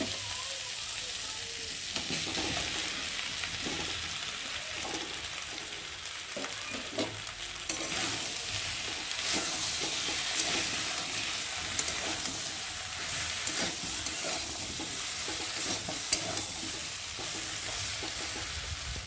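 Sliced ridge gourd sizzles steadily in hot oil in a pan while being stirred, for a fish curry with water spinach; the frying hiss is continuous and close, with soft scraping of the stirring spoon and no talking.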